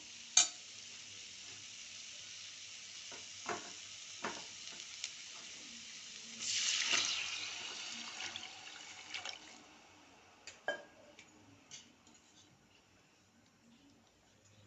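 Onions sizzle and fry in a pan while a spoon stirs with occasional scrapes and clinks, then a brief louder rush as water is poured in, settling back to a quieter simmer.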